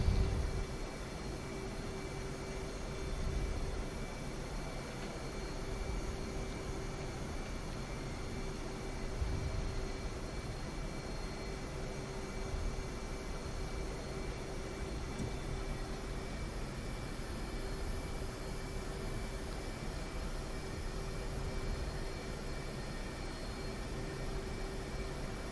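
An F/A-18C jet taxis in the DCS World flight simulator game, its engine a steady, even broadband roar with a faint high whine that holds unchanged throughout, with no voices over it.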